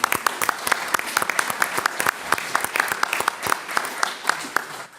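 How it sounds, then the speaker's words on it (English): Conference audience applauding the organizers, a moderate crowd clapping with distinct sharp individual claps standing out over a steady patter, fading at the end. "So applaud for the organizers."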